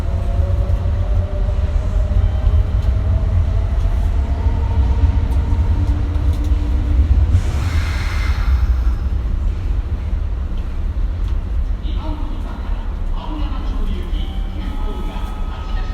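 A Kintetsu 1420 series electric train with a Mitsubishi GTO inverter runs on an express service toward Aoyamachō. A loud, steady rumble of running gear fills the whole clip, with motor tones sliding in pitch over it.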